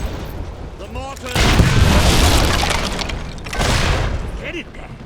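Mortar fire in the Fable 3 video game battle, two heavy booming blasts with long rumbling tails, loud and close, with some game speech around them.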